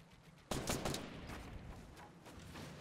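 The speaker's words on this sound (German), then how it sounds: "Da wird ganz übel von oben gesniped." A sudden burst of loud sniper rifle fire from above in a video game tournament match, sharp cracking shots that ring out and trail off into a rumbling echo.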